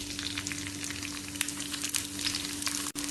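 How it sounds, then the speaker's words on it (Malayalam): Thinly sliced onion fries in hot ghee for Kannur alsa, a soft steady sizzle with faint crackles and a brief stirring clatter near the end; no voices. "നെയ്യ് ചൂടാവുമ്പോൾ ഇതിലേക്ക് വലിപ്പം കുറഞ്ഞൊരു സവാള നേർത്തതായി മുറിച്ചത് ഇട്ട് കൊടുക്കാം."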